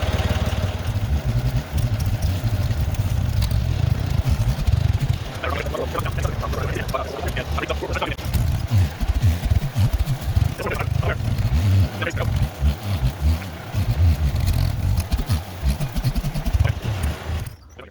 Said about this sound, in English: If I can even get the tractor back there,